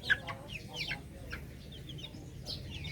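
Month-old Filipino native darag chickens on a farm cluck softly after feeding, with scattered short calls over a steady low background rumble.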